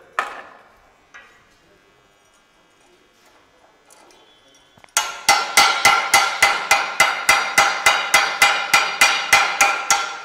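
A welding hammer strikes a welded joint to chip away the coating, giving about fifteen sharp, evenly spaced metallic taps that are loud and close, after a quiet start with faint clatter.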